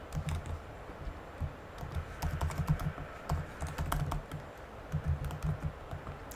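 Someone typing login credentials on a computer keyboard, a steady patter of soft, quick key clicks at moderate distance, with no voices.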